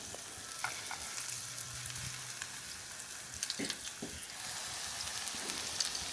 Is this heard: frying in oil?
yes